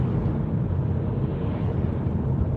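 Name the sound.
strong wind buffeting car dashcam at night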